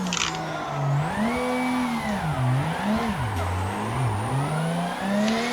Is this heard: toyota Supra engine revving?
yes